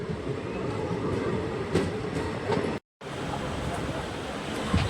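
Passenger train pulling away from Sihor junction, a steady rumbling and rattling of carriages with faint rhythmic clatter, heard from inside the coach, with a brief dropout midway.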